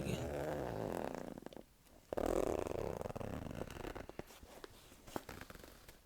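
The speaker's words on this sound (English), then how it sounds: "Do you like zipper sounds?" A backpack's front zipper is pulled open and shut at close range in a quiet room, giving soft, brief rasping strokes with pauses between them, faint and intimate.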